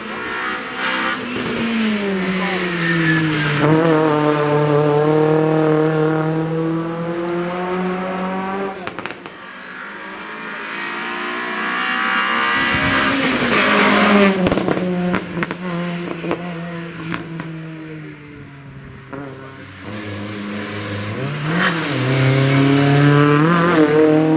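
A Peugeot race car at the start of the Course de côte de Dolé hill climb in Gourbeyre, its engine revving hard through rising gear pulls, with a brief pause and then renewed acceleration, loud and close.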